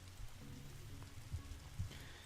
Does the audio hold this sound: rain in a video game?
yes